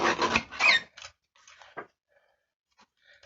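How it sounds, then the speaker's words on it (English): Card stock is cut on a paper trimmer: a few dry scraping, rasping strokes up close, strongest in the first second, then quieter scattered scrapes and one short slicing swipe. "I am just going to put this through my trimmer"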